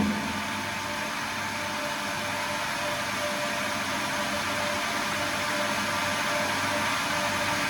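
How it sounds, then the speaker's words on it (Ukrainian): An electric water pump runs continuously nearby, drawing up water and purging air from the system, a steady droning whir with a low rumble that holds constant throughout. "ось звук помінявся, це насос підтягує воду"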